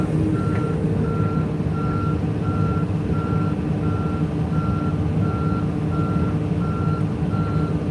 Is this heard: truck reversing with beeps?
yes